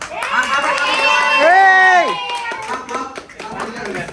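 Family members at a home Onam celebration clap to cheer on contestants, scattered claps rising mostly in the latter half beneath loud, excited voices calling out.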